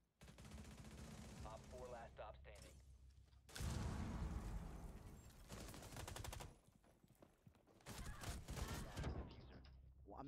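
Loud bursts of gunfire in the tactical shooter Rainbow Six Siege, several rapid volleys separated by short gaps, with voices chattering underneath.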